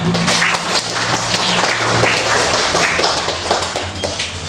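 Students in a classroom give loud, dense applause that stays steady and close for several seconds, with no talk over it.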